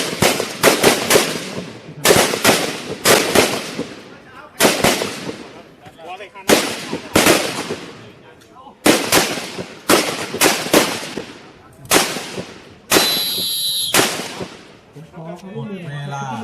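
Police tactical handgun and carbine training range: a loud, close series of sharp gunshots in quick bursts with short pauses, about a dozen reports, ending with a brief high tone and faint voices.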